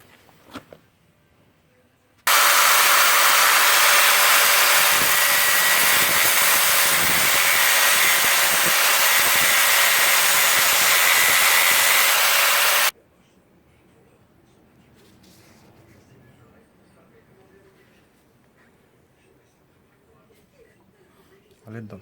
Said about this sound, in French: scie circulaire.